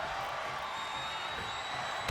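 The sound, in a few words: wrestling crowd cheering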